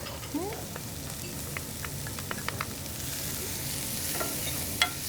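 Garlic going into onions and shallots sautéing in a pan for New Orleans étouffée, a steady moderate sizzle with scattered small pops and clicks of stirring.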